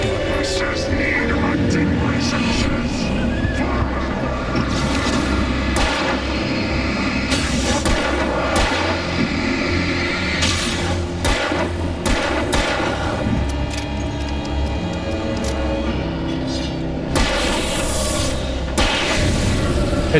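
Repeated gunshots from the video game Alan Wake crack through a dense, continuous mix of game sound, irregularly spaced bursts over a steady rumble, with a voice talking now and then.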